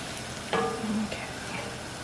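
Three garlic cloves frying and browning in a pan give a low, steady sizzle, with a brief clink of a utensil stirring partway through.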